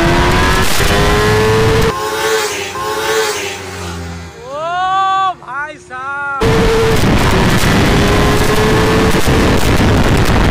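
A Kawasaki ZX10R sport motorcycle revs hard and loud, its engine pitch climbing through the gears, with a rising whine and brief drops between shifts over heavy wind rush.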